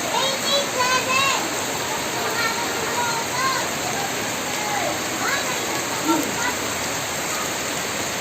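Steady, dense hiss of heavy rain pours continuously over a hot-spring resort, with voices talking and calling faintly over it.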